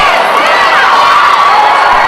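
A wrestling crowd at a Great North Wrestling show in Thunder Bay roars and cheers loudly and continuously, a dense wall of shouting voices with excited children's yells mixed in.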